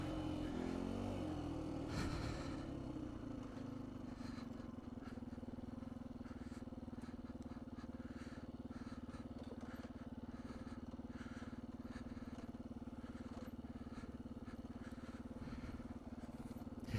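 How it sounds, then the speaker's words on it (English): A 2019 Beta 125 RR-S two-stroke dirt bike with a 150cc big bore kit, ridden on singletrack: a brief rising rev at the start, then a steady, fairly quiet engine drone that holds for the rest of the clip without cutting out, with no talking. "why is the bike dying?"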